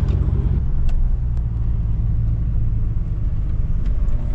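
An old car's engine rumbles steadily and loudly up close, a continuous low drone with no speech.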